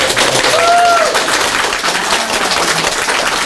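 An audience at a live talk show with an author applauds, a steady wash of many hands clapping at close range, with faint voices and a brief tonal sound mixed in.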